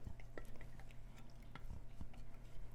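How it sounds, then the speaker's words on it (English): Casserole ingredients with sausage and sauerkraut being combined and stirred in a dish, producing quiet, scattered scraping and tapping of a utensil over a low hum. "We're going to add all this together, combine it, and stir."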